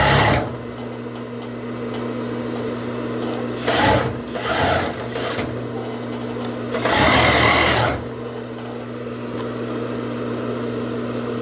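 Sewing machine stitching fitness shorts, a steady mechanical hum with low tonal drone running throughout, swelling louder in two bursts as it speeds up over seams, no talk.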